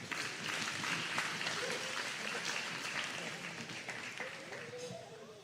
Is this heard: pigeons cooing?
no